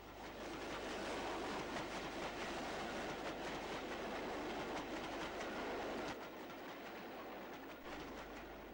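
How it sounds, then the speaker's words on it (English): Two Class 5 steam locomotives double-heading fifteen coaches northbound, a loud continuous roar of wheels and carriages rumbling past with clickety-clack, easing slightly toward the end. "2 Class 5s worked 15 coaches northwards"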